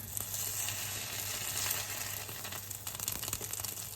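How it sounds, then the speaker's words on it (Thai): Egg-battered purple eggplant slices fry in hot oil, giving a steady, close, dense sizzle with small crackles and pops throughout and no talking. "ทอดมะเขือม่วงนะคะ"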